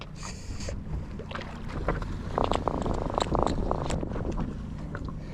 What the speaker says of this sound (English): That's the sound that croakers make.